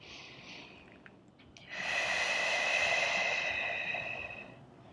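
Close breathing during a standing Pilates hold: a quiet inhale, then a long, audible breath out through the nose that swells and fades over a few seconds.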